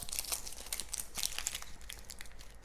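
Papery outer skin being peeled off a red onion, heard as a soft, continuous crinkling and crackling rustle that is close up but quiet, with no voices.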